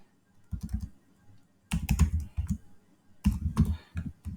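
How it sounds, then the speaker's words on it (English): Typing on a computer keyboard while entering a Python command, with three separate bursts of rapid key clicks broken by short pauses, close and clear with no talking. "I will type Python 3 and fetch"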